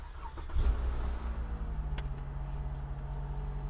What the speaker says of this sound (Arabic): اشتغل السياره